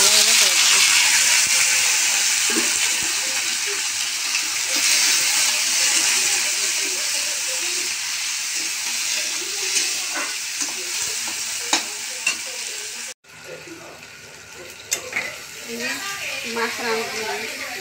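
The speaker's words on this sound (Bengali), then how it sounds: "একটু ভাজা করে দেবো" Three pieces of fish fry in a pan with a loud, steady sizzle and hiss, stirred now and then with scraping clatter. The frying stays close, and a voice speaks briefly toward the end.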